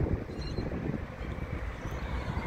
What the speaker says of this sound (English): it's also quite windy today